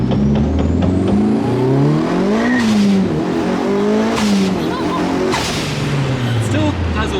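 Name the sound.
Mitsubishi Evo 5 with new turbo accelerating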